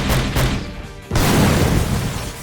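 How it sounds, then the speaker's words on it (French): A salvo of gunfire strikes mecha armour in a dense series of booming, crackling explosions, loud and close, with one short dip before the blasts roar back harder. "une salve de tir percutera le blindage du Yuvnes dans une série d'explosions assourdissantes"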